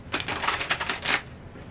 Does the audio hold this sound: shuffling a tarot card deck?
yes